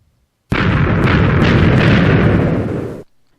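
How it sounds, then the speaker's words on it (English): A Minecraft explosion blowing up a tree, a single loud broadband blast that roars for about two and a half seconds before cutting off, heard alone without talk. "let me just blow up this tree here so I can get a good view of the sun later. And you'll also be able to see what the explosions look like"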